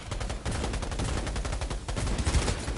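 Rapid gunfire in the video game Cyberpunk 2077 on PS4, a dense continuous burst of shots and impacts lasting a few seconds, loud and busy with no speech.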